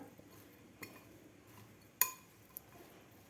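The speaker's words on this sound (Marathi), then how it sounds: "चाट मसाला आणि मीठ व्यवस्थित आपल्या भाज्याला लागलं पाहिजे. व्यवस्थित सगळीकडे मिक्स करायचं आपल्याला." Spoon clinking against a bowl while roasted makhana chaat is tossed with vegetables, chaat masala and salt, giving a few sparse, faint metallic taps and scrapes in a quiet room.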